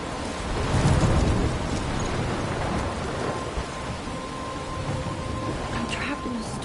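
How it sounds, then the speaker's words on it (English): In the game Life is Strange, a thunderstorm rumbles with a heavy low roll of thunder near the start over steady, hissing rainfall that continues throughout. "I'm trapped in a storm?"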